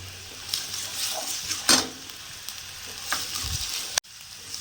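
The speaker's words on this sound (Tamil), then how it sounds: "கருவேப்பிலை ஒரு ரெண்டு கொத்து போட்டாச்சு போட்டு அப்படியே ஒரு நல்ல ஒரு பரட்டு" Curry leaves crackling and sizzling in hot oil in a pan while cooking a chicken fry, a steady close sizzle broken by a few sharp stirring scrapes and one brief thump near the end.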